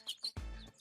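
Quick chirps and tweets from a person mimicking bird calls in a studio, two short high whistles, a lower throaty coo, then another chirp, close and fairly quiet.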